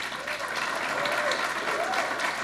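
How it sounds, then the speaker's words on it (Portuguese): Sustained audience applause at an award ceremony honouring anthropology experts, a dense even wash of many hands clapping throughout, steady and moderately loud with no pauses. "um aplauso de todos nós"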